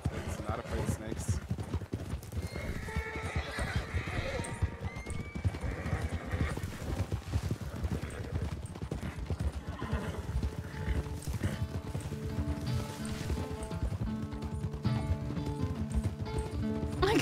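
Rhythmic clip-clop of horse hooves runs throughout, with a horse neighing over the steady beat, set against a layered soundtrack from the Western roleplay game RedM.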